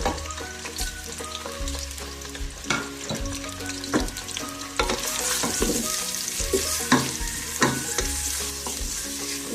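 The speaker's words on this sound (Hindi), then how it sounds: "इनको आप ऑयल में अच्छी तरह भून लें।" Tomatoes, onions and green chillies fry in hot oil in a pressure cooker, producing a loud, continuous sizzle close by, with repeated scraping and clattering from stirring.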